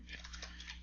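Keystrokes on a computer keyboard as a variable name is typed, a quick run of faint, soft clicks close by over a steady low hum.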